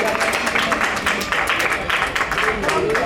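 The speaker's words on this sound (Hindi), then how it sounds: "एक बार जोरदार तालियां हो जाएगी चलिए।" Audience applause at a stage ceremony, a brief burst of dense clapping from a crowd, steady and fairly loud throughout.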